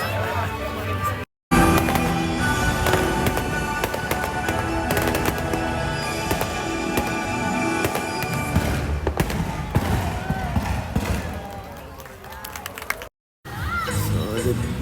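Fireworks in Singapore crackle and boom in rapid, overlapping bursts, with a crowd cheering and shouting throughout and brief gaps of silence between volleys.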